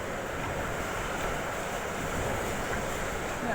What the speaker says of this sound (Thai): เนี่ยพัดฝนมาเนี่ย